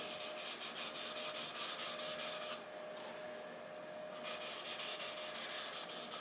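Steady rhythmic rubbing strokes applying oil to turned wood, a brisk repeated swishing that pauses briefly midway, then resumes at the same even pace.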